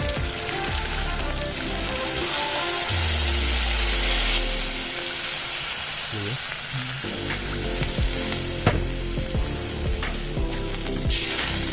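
Binahong leaves and anchovies sizzle loudly in a pan as water is added, giving a hissing, crackling fry with a sharp burst when the water hits, followed by steady bubbling and stirring noises close by.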